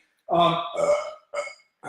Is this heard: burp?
yes